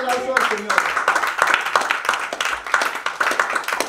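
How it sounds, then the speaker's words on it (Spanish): Applause from a congregation during a Spanish-language Christian sermon, a dense, steady patter of many hands clapping with a preacher's voice speaking over it throughout. "Si lo quieres, dale un aplauso al Señor."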